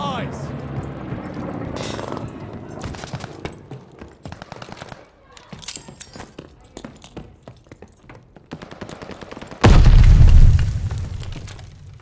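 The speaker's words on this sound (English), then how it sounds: "Stun grenade!" A stun grenade detonates in Call of Duty Vanguard team deathmatch, a loud low-heavy blast near the end following a busy stretch of gunfire and impacts, with voices in the game audio.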